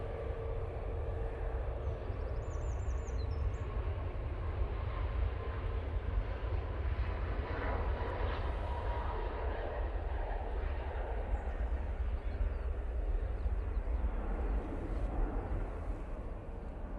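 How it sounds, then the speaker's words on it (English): A Ryanair Boeing 737 MAX 8 takes off from Manchester Airport, giving a continuous broad jet-engine roar that holds steady at moderate distance, with no voices over it. "Ryanair 737 MAX 8 now on the roll."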